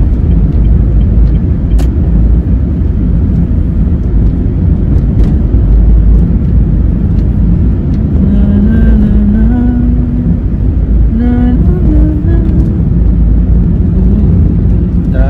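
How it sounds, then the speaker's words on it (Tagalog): Steady road traffic on EDSA, a congested Manila highway, with a continuous low engine rumble from nearby cars and a brief rising engine whine from a passing vehicle midway, no talk. "Hindi naman talaga mawala yung traffic."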